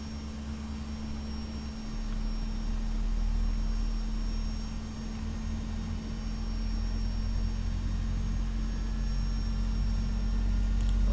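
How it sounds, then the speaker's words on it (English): Boeing 767 engine spooling up in the X-Plane flight simulator: a steady, droning whine and low rumble that gradually builds in loudness, with a constant hum running through it and no talking. "Let's start engine number 1."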